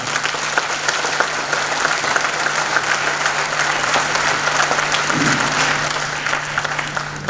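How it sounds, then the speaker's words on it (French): A large audience at a national awards ceremony for top students gives sustained, loud applause for the parents, a dense, even wash of clapping that holds steady throughout. "Je souhaite qu'on applaudisse très fort les parents."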